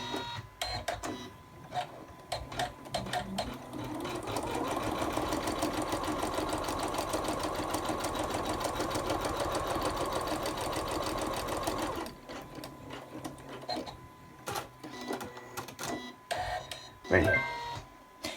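Embroidery-style sewing machine stitching out a pencil case, a steady fast rhythmic clatter running for several seconds, bracketed by quieter starts and stops with some speech around it.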